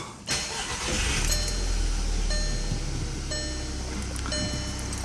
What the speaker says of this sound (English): I'm just going to turn the car on real quick